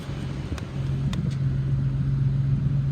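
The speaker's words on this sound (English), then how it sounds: "Motor sounds good." A 2014 Infiniti QX70 with a rebuilt title idles close by in a steady low rumble, with a couple of faint clicks near the start.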